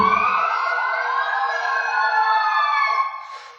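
A loud emergency siren sounds outside for a few seconds, its steady wailing tones drifting slightly in pitch before fading away toward the end.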